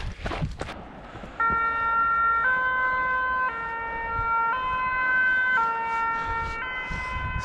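A wailing emergency siren rises and falls in steady stepped tones throughout, loud and continuous, heard from a trail race course during a long mountain ultra near Besançon; no one speaks.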